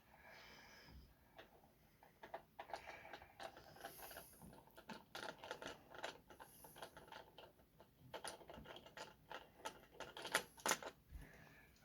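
A hand screwdriver turns the terminal screws of a light switch, giving a series of small, close ratcheting clicks and scrapes in irregular bursts, fairly quiet and alone without talk.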